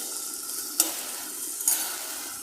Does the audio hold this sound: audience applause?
no